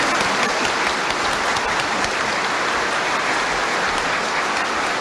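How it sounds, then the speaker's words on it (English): Warm, sustained applause from a large university audience in Shanghai welcoming a presidential speech, a dense, even roar of clapping that fills the whole stretch without a break. "Now let us greet Mr. President's speech with a warm applause."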